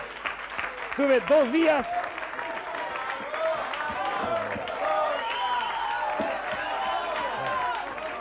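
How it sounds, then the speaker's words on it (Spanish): An audience at an evening variety show breaks into applause, a steady wash of clapping and crowd noise under a voice as he talks and sings over it. "¡Aplauda, no sean malos!"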